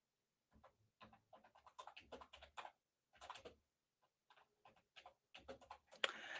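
Quick bursts of key clicks on a computer keyboard, irregular clusters of close, faint taps separated by short pauses, with no voices.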